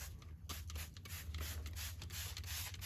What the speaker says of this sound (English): all it is just spray it evenly here and there.